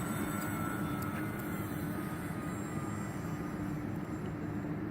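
An E-flite T-28B Trojan 1.2 m RC airplane on its maiden flight at about half throttle, producing a continuous steady motor drone with broadband whir, moderately distant and unchanging in level.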